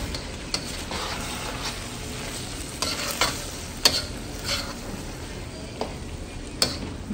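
Chopped onion sizzling in a pan in a home kitchen, a steady frying hiss broken by sharp utensil scrapes and taps as it is stirred, moderately close with no talking.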